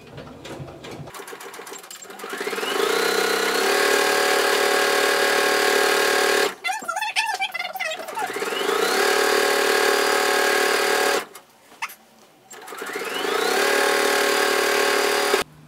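A sewing machine runs at near top speed stitching a fabric seam for a kimono or yukata, a loud close steady whirring rattle in long runs that ramp up, broken by short pauses and handling noise.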